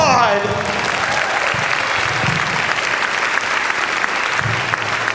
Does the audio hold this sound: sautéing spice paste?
no